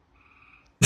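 A frog croaks once in a loud, abrupt burst at the very end, following a faint tonal hum.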